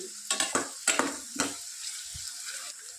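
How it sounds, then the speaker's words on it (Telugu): Onions frying in a pan, a few sharp scraping stirs early on, then a soft, steady sizzle carrying on alone at close range. "ఆనియన్స్ బాగా మంచి బ్రౌన్ కలర్లో వచ్చేంత వరకు ఫ్రై చేసుకోవాలి"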